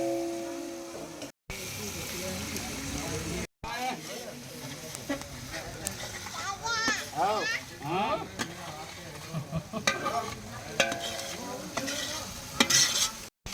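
Chilies dropped into a frying pan of onion crackle and sizzle close by, with scraping stirs and a few sharp pops, while a voice talks over the cooking.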